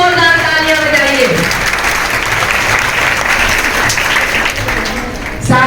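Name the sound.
audience applause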